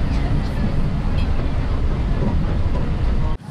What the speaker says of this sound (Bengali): আমরা এখন আছি ব্যান্ডেল স্টেশনে।